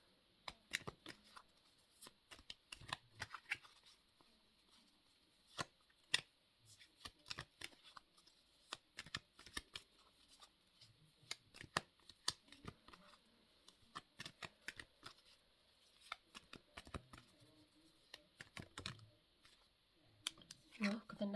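Tarot cards are shuffled by hand to draw another card, with soft repeated riffling and flicking in quick irregular bursts, close and quiet, while someone talks faintly.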